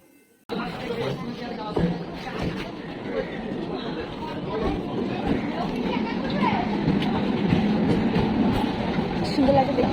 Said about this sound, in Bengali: তো চলো এখন ট্রেনে ওঠা যাক